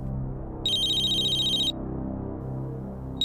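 Mobile phone ringing, a high electronic trill in a burst of about a second, then a gap before it starts again, over low background music.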